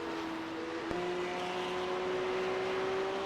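A Porsche Cup race car in a Boost Cup series race passes on track, a steady engine drone holding a sustained tone that shifts pitch once as it goes by, with no voices.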